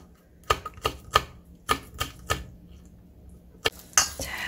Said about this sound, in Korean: 하나를 이렇게 둥글둥글하게 그냥 썰어 놓고